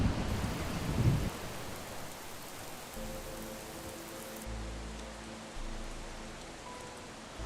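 Heavy monsoon rain pours steadily in the Western Ghats forest, with a loud thunder rumble near the start and deep low rolling thunder returning later, filling the whole stretch with dense hiss.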